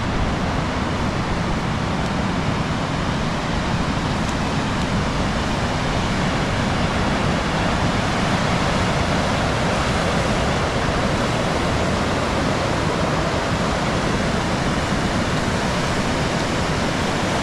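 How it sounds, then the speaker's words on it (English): A constant, dense roar of strong wind and crashing surf at a choppy Devon beach in stormy weather fills the whole stretch without pause, loud and close to the microphone. "Damn wind is crazy."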